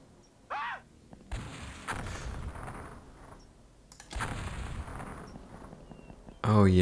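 Panzerfaust rocket blasts in the X-Piratez strategy game, two heavy booming explosions with long rumbling tails, each preceded by a whoosh, and a loud thump at the end.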